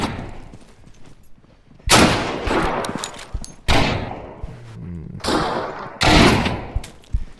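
AK rifle fire in the video game Deadside, several loud bursts of rapid automatic shots spaced a second or two apart, close and sharp, with quieter game sounds between them.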